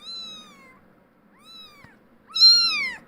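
A tortoiseshell kitten meows loudly three times while being held, each cry a clear drawn-out call, the last one the loudest, close and alone against a quiet room.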